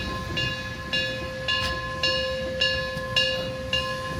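A Durango & Silverton narrow gauge steam train rolls slowly into its shed, with a steady tone underneath and a regular clanking beat repeating about every half second, close and loud.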